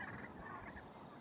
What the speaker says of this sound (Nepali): टर्कीको फाइटिङ ल हेर्नुहोस् है